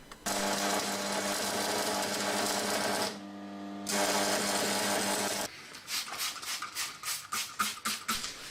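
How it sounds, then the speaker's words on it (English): A small hobby welder fuses a chain into an axe handle with a steady, loud buzzing crackle that pauses once briefly, then breaks into short rhythmic bursts of arc sputter toward the end. "Now the chain handle's all welded together"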